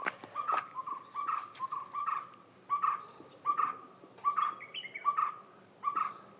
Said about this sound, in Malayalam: അപ്പോൾ എനിക്ക് മനസ്സിലായി പനത്തത്തെയാണ് ഈ ശബ്ദം ഉണ്ടാക്കിയത്.